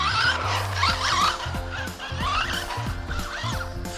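High-end RC buggy tires sliding on a track: an electric motor's stepped whine rises and falls with short squealing chirps from the tires as the buggy slips through turns, close and fairly loud, with no talking.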